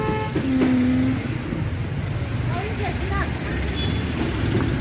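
Motorcycles come in along a crowded road, their engines and traffic rumbling steadily with a few horn toots, while people talk nearby over the noise.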